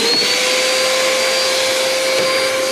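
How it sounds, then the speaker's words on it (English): A Brühl motorcycle dryer blower runs after being switched on, a loud, steady, high-pitched whooshing whine close up and continuous with no pauses. "let's turn it on"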